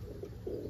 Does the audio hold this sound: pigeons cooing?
yes